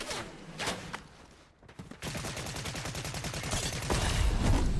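Gunfire rings out in Fortnite as a fast run of rapid automatic shots that grows louder toward the end, after a brief burst and a short quiet gap.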